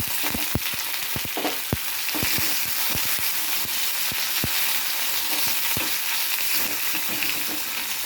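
Curry leaves and small chillies crackle and sizzle in hot oil for pulihora, a dense steady frying hiss broken by sharp pops and spatters throughout, close and loud with no talking.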